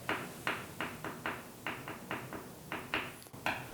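Sharp knocks of prison tap code, tapped out in grouped bursts with short pauses between, a deliberate coded rhythm, close and fairly loud.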